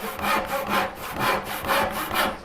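A freshly filed hand saw cutting through wood, six even rasping strokes in steady back-and-forth rhythm, close and clear with no talking.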